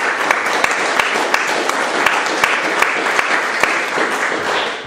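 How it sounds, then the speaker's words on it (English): Church audience gives a round of applause, a steady wash of many hands clapping with a few sharper individual claps standing out, sustained at an even level. "I think we should give you a round of applause"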